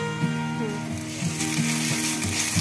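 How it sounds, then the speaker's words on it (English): Garlic ginger paste sizzles in a pan for an ivy gourd fry, a steady close frying hiss with faint rhythmic scraping and clicks running beneath it. "Now I am adding little garlic ginger and paste."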